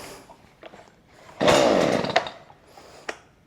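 A Stihl MS212C chainsaw on full choke gives a few quiet pull-cord tugs, then fires into a loud, close engine burst of under a second whose pitch drops as it dies, followed by another faint pull.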